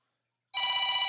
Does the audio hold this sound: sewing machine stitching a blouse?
no